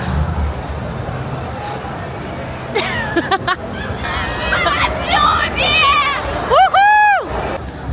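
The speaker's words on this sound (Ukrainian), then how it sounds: "просто тут такий натовп, що неможливо йти" Dense crowd babble fills the Kharkiv City Day celebration, many voices close and overlapping with shouts rising partway through, plus whistle-like tones near the end.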